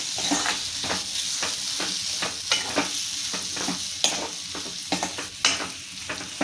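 Chopped kaatikanag tuber sautéing in a pan sizzles with a steady frying hiss, broken by repeated scraping stirs of a spoon against the pan, close and clear with no talk.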